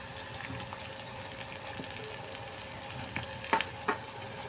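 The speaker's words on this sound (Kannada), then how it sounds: "ಸ್ವಲ್ಪ ಹಸಿ ವಾಸನೆ ಹೋಗೋವರೆಗೆ ಫ್ರೈ ಮಾಡಬೇಕು ರೀ" Spices frying in a pan for okra palya make a low, continuous sizzle with scattered crackles and two sharper stirring clinks near the end, close and without talk.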